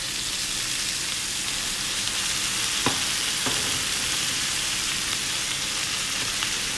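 Shredded chicken breast frying with garlic and onion for chicken pastil, a steady close sizzle with a couple of faint stirring clicks partway through.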